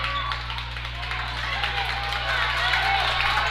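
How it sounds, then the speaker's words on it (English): Crowd applause at a girls' varsity basketball regional final, fans clapping for the Altoona team: a dense, steady patter of many hands mixed with crowd murmur, running under a commentator's voice. "Altoona giving their team a round of applause for holding off Somerset here"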